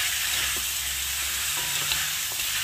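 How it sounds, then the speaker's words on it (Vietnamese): Squid stir-fried with radish, carrot and onion in a pan gives a close, steady sizzling hiss, broken by a few faint stirring scrapes and no talking. "Xào cho săn mực lại thì mình sẽ cho củ cải cà rốt và củ hành vào luôn nha."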